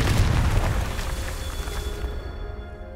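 A blasting spell detonates in a wizarding video game, a heavy booming explosion up close that roars loudly at first, then fades into a lingering rumble and a thin ringing tail.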